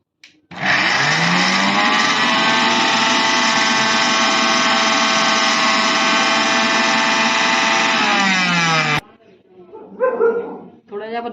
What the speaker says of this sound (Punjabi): ਹੁਣ ਆਪਾਂ ਇਹਨੂੰ ਗ੍ਰਾਈਂਡ ਕਰਾਂਗੇ ਗ੍ਰਾਈਂਡਰ 'ਚ